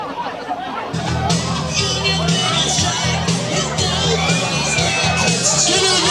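A crowd cheers and calls out to egg on a toboggan rider before his run down, a loud, steady wash of shouting and chatter with children's shouts mixed in.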